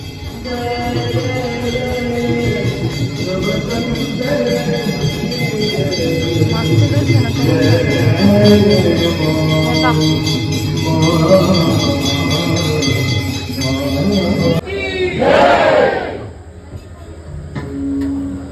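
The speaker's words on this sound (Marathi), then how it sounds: "आरती चालू झालेली आहे मंदिरात प्रचंड गर्दी दिसते" Evening aarti at a crowded temple: a dense, steady wash of crowd noise with tonal ringing and chanting runs throughout, swelling briefly near the end before settling.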